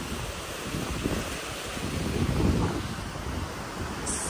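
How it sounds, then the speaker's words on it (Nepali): Broadband rushing water from a mountain stream by a bridge on the trail to Tilicho Lake in Manang, Nepal, a steady close roar mixed with wind buffeting the microphone, with no voices. "यहाँ खोला पनि छ"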